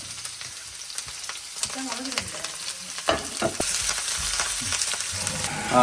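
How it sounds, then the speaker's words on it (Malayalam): Mustard seeds, onion and vegetables frying in a pan for upma: constant hiss and crackle with scattered pops and a few spoon scrapes, growing louder toward the end, close up with no one speaking. "മറ്റേ ഒനിയനും മറ്റേ വെജിറ്റബിളും എല്ലാം നമുക്ക് ഇടാം. ഇട്ട് ഒന്ന് ഫ്രൈ ചെയ്തെടുക്കുന്നുണ്ട്."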